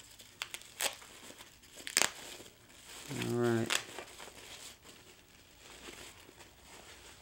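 Crinkling and tearing of packaging comes in short bursts up close, with a brief spoken phrase in the middle, as a replacement MacBook Pro keyboard is unwrapped.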